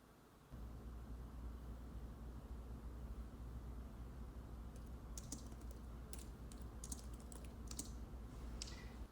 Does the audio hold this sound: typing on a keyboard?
yes